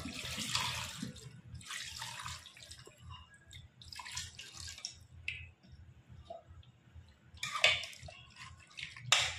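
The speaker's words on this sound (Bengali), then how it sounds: "এবার দিয়ে দেবো পরিমাণ মতো জল।" Water is poured into a pot of mutton curry (goat meat stew) as it cooks, giving bursts of splashing and trickling that come and go in close, moderately loud pulses with no talk.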